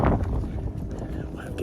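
Steady wind gusts rush across an open mountain summit on a hiking trail, a broad roaring buffet close on the microphone throughout, with a faint voice mixed in.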